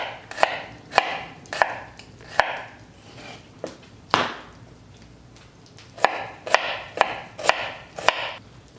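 A knife slices through produce on a board, about a dozen crisp cuts in uneven bursts with short pauses, close and distinct against a quiet background.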